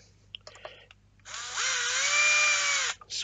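A power drill drives screws into a resin dice tower, one sustained whirring run of about a second and a half with a rising then steady pitch, preceded by small handling clicks and followed by a brief final burst.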